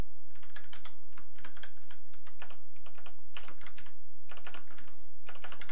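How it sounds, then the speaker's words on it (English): Fingers type on a gaming computer keyboard with tall keys while writing Java code, producing close, crisp bursts of rapid keystrokes separated by brief pauses. "this is like one of those gaming keyboards where the keys feel like they're like 10 feet tall"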